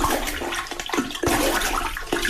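A toilet flushing close by, a rushing gurgle of water swirling down the bowl for a couple of seconds.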